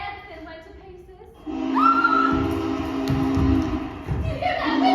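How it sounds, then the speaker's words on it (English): A steam locomotive whistle from the Cannonball Express train sounds in a long, steady sustained tone with a bending upper pitch, rising over background rumble and thuds, with a crowd murmuring nearby. "You hear that whistle? That's the Cannonball Express"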